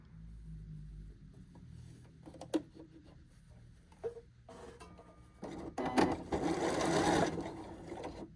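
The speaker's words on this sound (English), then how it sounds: "And let's sew." A Janome Hello Kitty sewing machine starts with a few quiet clicks, then runs at speed with a loud, steady mechanical whir that builds toward the end.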